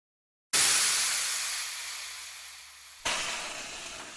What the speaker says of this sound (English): that second air noise you hear is actually these spikes down here going in